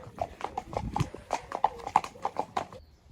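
A ridden pony's hooves clip-clop at a steady walking rhythm, close and clear, each footfall a distinct knock across the few seconds.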